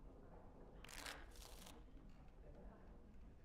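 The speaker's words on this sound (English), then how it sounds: "Before we start, the cards must be shuffled." Playing cards shuffled in the Dragon Age Origins video game: two quick riffling bursts close together, crisp and brief over a quiet room-tone background.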